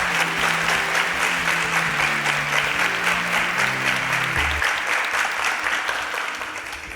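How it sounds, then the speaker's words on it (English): A studio audience at a Nigerian innovation competition show applauds loudly and steadily, with the dense clapping fading slightly toward the end under music. "A round of applause for them."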